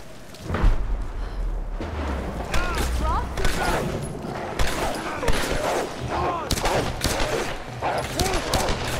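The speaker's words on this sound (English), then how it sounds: "distant gunfire" Bursts of distant gunfire in the video game Tomb Raider (2013) crackle and boom repeatedly at a moderate distance, mixed with rumbling blasts, while voices talk intermittently over them.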